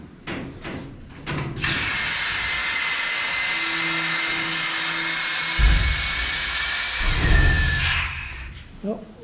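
Parts for a 1974 Honda XL250 motorcycle are blasted in a sandblast cabinet: a sustained, loud hiss of air and grit that starts after a few clunks, runs about six seconds and then tapers off, with a brief low hum partway through.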